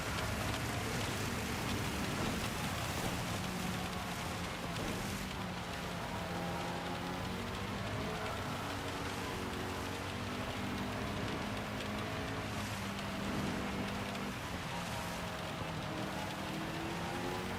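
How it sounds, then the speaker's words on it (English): Steady rain hisses throughout a race in Gran Turismo 7, a dense, even wash of noise with faint engine tones running underneath. "this is for sure raining the whole race"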